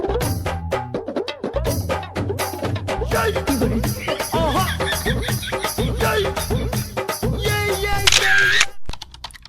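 A phone camera takes a selfie, firing a rapid series of sharp shutter clicks inside a loud, busy mix of other sounds that ends abruptly.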